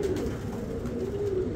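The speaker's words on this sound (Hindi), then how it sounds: "अब देखिए मैं आपको कबूतर दिखाता हूँ।" Pigeons cooing close by, a low soft continuous burble of several birds, with no talk over it.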